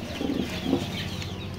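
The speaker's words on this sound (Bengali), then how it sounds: "দেশি মুরগি বাচ্চা রয়েছে, অল্প কিছু বাচ্চা রয়েছে" Layer and local chicks peeping at a hatchery, soft high chirps from several birds blending together at close range, brief and without voices.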